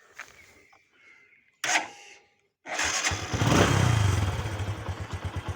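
A Bajaj Boxer 125 motorcycle with its original battery gives a couple of clicks and a short crank, then fires up and settles into a loud, close, steadily pulsing idle.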